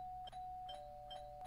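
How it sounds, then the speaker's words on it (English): Electronic doorbell chiming repeatedly in a quick, even rhythm over a steady background hum, fairly quiet and heard alone. "can you stop ringing the doorbell"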